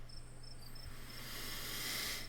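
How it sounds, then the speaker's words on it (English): Crickets chirp quietly at night in a sleepy neighborhood, a steady high trill over a faint low hum with no other activity. "Crickets singing quietly in the sleepy little neighborhood."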